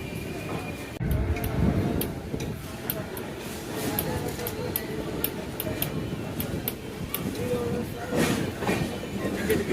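Vaigai Superfast Express rolls along the rails with a continuous rumbling carriage noise, rhythmic clickety-clack wheel beats and occasional squeal, heard from inside the coach, loud and steady.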